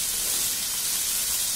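Mixed vegetables sizzle loudly with soy sauce in a pan over a high flame, a steady, dense hiss with no talking.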